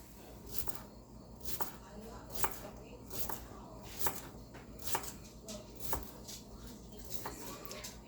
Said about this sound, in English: So we're just going to continue to slice and slice and slice 8 pounds of cucumbers.